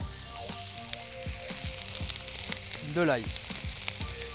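Lamb sausages sizzle on a plancha in olive oil, a steady crackling fry with a few metallic scrapes and brief knocks, while a voice speaks briefly over the cooking.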